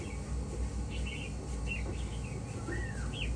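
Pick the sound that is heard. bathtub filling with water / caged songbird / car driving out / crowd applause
caged songbird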